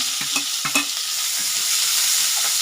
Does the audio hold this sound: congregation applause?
no